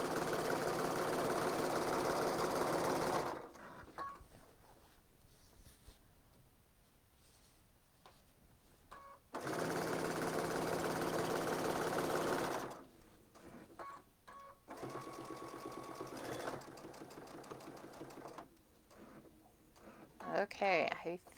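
A long arm quilting machine running a basting stitch while binding a quilt, with a steady, loud mechanical hum in several separate runs and quieter stretches of handling sounds between them.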